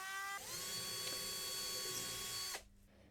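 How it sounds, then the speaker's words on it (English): A Dremel rotary tool with a cutting disc whines at a high steady pitch while cutting a piece to length for an arcade control panel, the tone dipping slightly under load before the motor cuts off abruptly. "I first cut it to length with my Dremel and a cutting disc"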